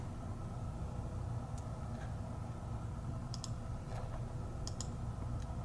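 Computer mouse clicks in Scan N Cut Canvas Workspace software: a few sparse, sharp single clicks spaced seconds apart over a steady low hum.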